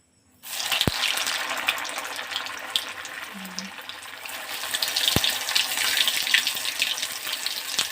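Banana flower chops are slipped one by one into hot oil, giving a steady, close sizzling hiss throughout with a couple of small sharp clicks.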